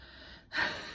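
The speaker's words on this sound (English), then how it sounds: "that's the dog snoring" A dog snores somewhere in the background, giving one breathy, snorting intake that swells up suddenly and then holds steady.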